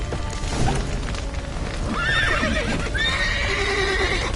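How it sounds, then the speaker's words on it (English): Horses whinny and neigh several times amid clopping hooves in The Witcher 3, set during a smoky fire rescue with a collapsed roof, over a steady rumbling background. "Horses!"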